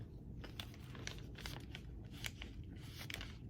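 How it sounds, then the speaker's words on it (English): A crisp bite into a dense frozen snack, followed by faint crunching chews with scattered sharp cracks over a quiet background, close to the mouth. "It was quite a dense crunch into it, and you may have been able to hear the crunch as I chewed on it."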